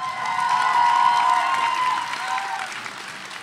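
A crowd at a high school spoken word poetry event bursts into loud, sustained applause for a poet, with scattered cheers mixed in before the clapping slowly tapers.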